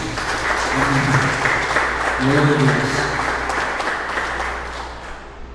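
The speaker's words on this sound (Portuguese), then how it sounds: "Você pode aplaudir o Senhor por isso?" A church congregation claps during a worship service, a dense wash of many hands running throughout, while a voice speaks over it and the clapping thins out toward the end.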